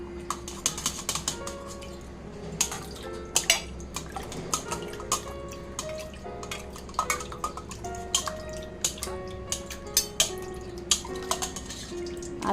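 A tarnished copper vessel moves through a bowl of cleaning water, giving close irregular drips, splashes and light metallic clinks in a scattered rhythm with no talking.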